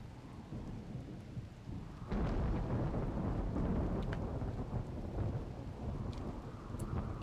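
Steady rain and a rolling thunderstorm from the video game RimWorld, a dense continuous wash of noise that swells louder partway through, with no voices over it.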